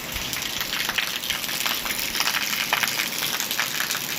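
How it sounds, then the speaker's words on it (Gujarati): Heavy rain that has fallen nonstop since the night before pours down outside, producing a loud, dense, continuous splashing hiss with no letup and no voices. "જો કેટલો બધો વરસાદ ચાલુ હોય."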